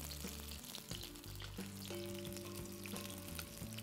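Brinjals fry in oil over a medium flame for ennai kathirikai, giving a faint, steady sizzling hiss with tonal background music running beneath.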